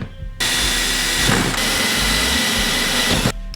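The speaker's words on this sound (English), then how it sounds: "Drill through your horns. Make sure you hit a lot of bone." A power drill runs steadily at high speed, loud and close, with a brief change in pitch as it bites into deer antler, then stops.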